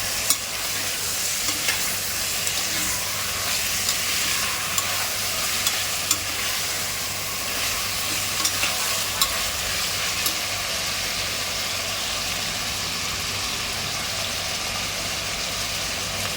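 Half a kilo of mutton pieces with tomato fries in a pot for yakhni pulao, giving a constant close sizzle with occasional stirring clicks and a low steady hum underneath, no voices.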